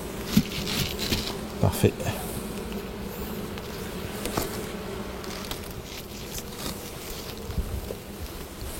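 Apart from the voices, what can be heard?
honeybee colony buzzing at a Kenyan top-bar hive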